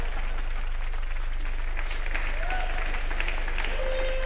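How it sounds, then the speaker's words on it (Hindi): Studio audience applause on a Hindi television game show, a dense continuous wash of clapping from a crowd that holds steady and loud throughout, with a faint tonal sound rising near the end. "ताली दो मुझे"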